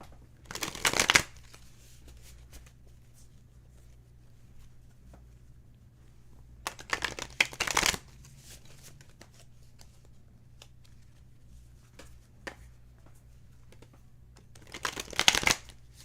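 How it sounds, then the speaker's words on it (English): A deck of tarot cards is riffled and shuffled in three separate bursts of crisp fluttering, with quiet stretches and faint handling between them. "I feel like I want to shuffle again."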